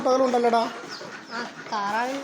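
Country chickens and roosters in a backyard flock clucking and calling, with several clear, tonal bursts near at hand and quieter clucks between them.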